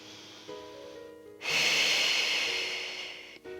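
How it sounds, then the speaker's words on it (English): Deep, close breath during a Pilates stretch: a quiet inhale, then a long, loud, airy exhale that slowly fades before a brief catch at the end. "Inhale to your belly. Exhale to stretch."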